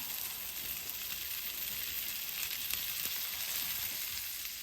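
Swedish sausages frying gently in butter over low heat, a soft, even sizzle that stays constant and fairly quiet with no talking.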